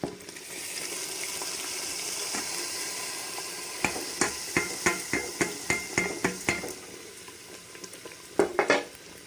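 Garlic, ginger and spices fry in desi ghee for saag, a steady sizzle first, then a run of sharp stirring scrapes and taps against the pan, with a few more at the end.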